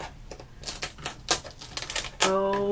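A Brother ScanNCut 2 cutting machine works through black paper with a run of sharp, clicking taps and brief bursts, then settles into a steady, loud motor whine with a clear pitch near the end.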